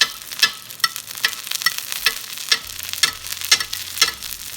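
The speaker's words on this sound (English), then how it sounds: "So now just start basting them." Porcini mushroom steaks sizzle in foaming, browning butter as a spoon bastes them, giving rhythmic splashing bursts about every half second over a constant close crackle.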